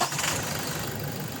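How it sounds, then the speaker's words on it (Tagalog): A Toyota Innova engine is started after the coolant reservoir has been topped up. It turns over and settles into a steady, fairly quiet idle rumble, heard close up with no voices. "Tapos pa-start ko na itong makina."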